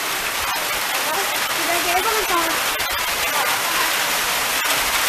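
Steady, dense hiss of rain falling on a river while people bathe in it, loud and continuous throughout, with a voice speaking briefly over the downpour.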